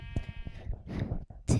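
Minecraft sheep bleat a few times in quick succession, close and clear, with short gaps between the calls and a brief louder bleat at the end.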